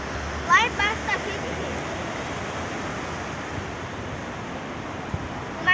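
Waves washing onto a beach at dusk make a steady, broad rush of surf under light wind, with faint voices talking briefly in the background.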